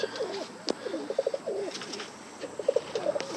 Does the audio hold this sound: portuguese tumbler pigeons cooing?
yes